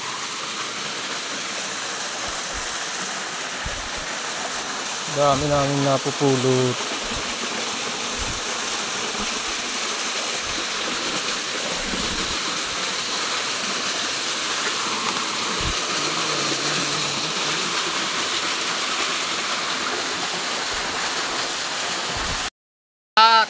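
A waterfall rushes in a continuous, even, broadband roar close by, with a brief stretch of people talking partway through.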